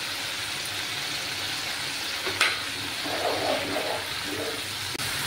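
Coriander powder fries in a pan while being stirred, a steady soft sizzle with brief scraping and stirring noises, close and without talk.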